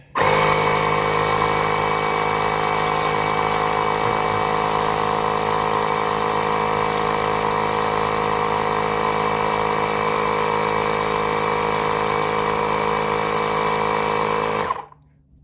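A Milwaukee M12 compact inflator (model 2475-20) runs continuously at a steady motor whine with a constant airflow hiss for about fourteen seconds, loud and close, then it cuts off abruptly.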